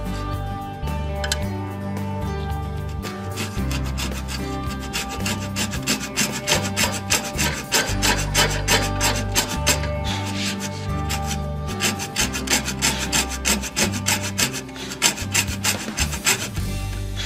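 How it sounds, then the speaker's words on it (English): A hand saw rasps through wood in steady back-and-forth strokes while cutting a push stick, close and rhythmic, continuing without pause. "from here we're just going to start sawing"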